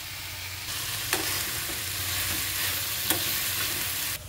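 Lightly salted vegetable pieces for a biryani frying in a pan, giving a steady close hiss of oil with two brief sharp clinks of a spatula, no talk.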